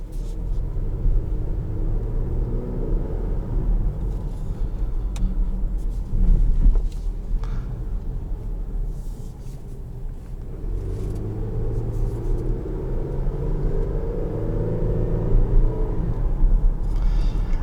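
Cabin rumble of a 2021 Dodge Durango GT Blacktop Edition cruising at a steady 20 mph, a low even road and engine drone with faint bumps and clicks, no talking.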